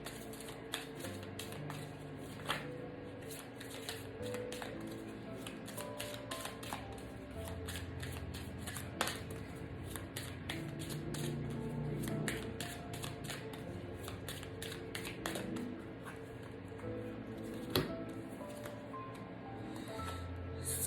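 Tarot cards are shuffled during a card reading. A soft, steady riffling runs throughout with frequent light card snaps, fairly quiet and close, and no voices.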